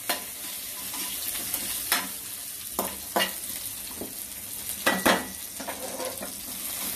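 Chopped ginger and chillies sizzle in hot oil while a ladle stirs them, with several distinct scraping strokes against the pan over a steady fry.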